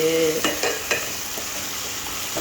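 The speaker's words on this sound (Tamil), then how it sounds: "வெண்டிக்காயோட வளவளப்பு போகிற வரைக்கும் நல்லா வதக்கி விடணும் நல்லா வதக்கி விட்டுட்டு" Okra sautés in a pan with a constant close sizzle, and several spoon-stirring scrapes and taps break through it.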